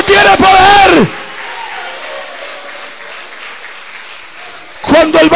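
Church congregation applauding during a Spanish-language sermon, a sustained wash of clapping between loud bursts of a preacher shouting at the start and end.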